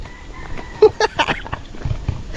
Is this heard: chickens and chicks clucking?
yes